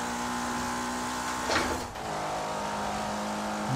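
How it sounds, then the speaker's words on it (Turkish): An Opel Astra engine in Forza Horizon 4 drones at full throttle, a steady high-revving tone held throughout with a brief whooshing surge midway. "Şu an dibine kadar asılıyorum gaza."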